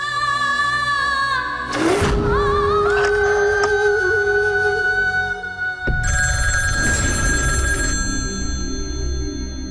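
A landline telephone rings unanswered indoors, its repeated bell tones sounding loud and close in bursts, with a brief pause between rings and no voices.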